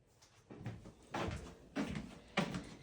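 Doors inside a house are closed, giving four soft, muffled thuds spaced about half a second apart, faint and near.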